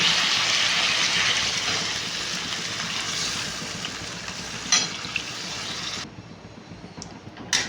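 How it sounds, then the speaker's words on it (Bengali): Spiced potatoes for aloo dum fry loudly with a steady, dense sizzle as water goes in and a spoon stirs, the hiss easing and thinning toward the end with a few scrapes. "জল দিয়ে দিলাম এবার একটু নাড়াচাড়া করে নিয়ে চাপা দিয়ে দেবো"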